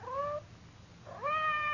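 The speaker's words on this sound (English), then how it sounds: "It sounded like Madame's cat, Francois." A cat meows twice in a radio mystery drama, each a clear rising-falling cry, the second longer, with a quiet gap between them.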